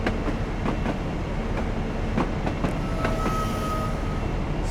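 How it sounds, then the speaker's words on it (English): Train running on rails in Train Simulator Classic, a loud steady rumble with periodic wheel clacks over rail joints and a faint high squeal on tight curves, continuous throughout. "Now we can see the back of the train is almost fully on the main line now."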